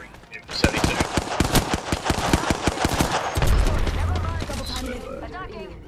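Rapid automatic gunfire from Apex Legends Season 6 on PS4, a dense burst of dozens of sharp shots for about three seconds, then a low rumble and game effects, with players talking over it.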